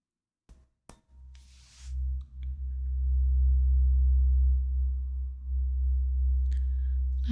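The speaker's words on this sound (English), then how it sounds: "we have some extra long tuning fork" An extra long tuning fork gets a couple of light clinks, then rings with a steady, deep hum that holds for several seconds. A faint click and a brief higher tone come near the end.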